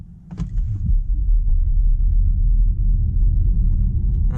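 Skoda Enyaq electric car accelerating on a road to 50, heard from inside as a steady low rumble of tyres and road noise with a faint motor whine, loud and continuous.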